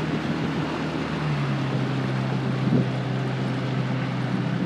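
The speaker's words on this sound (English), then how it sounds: "Powerful, very quiet, very, very smooth running motor." A 1957 Evinrude Fastwin 18 hp outboard motor runs steadily on a boat, a smooth, even drone held at a constant level throughout with wind and water noise around it and no talking.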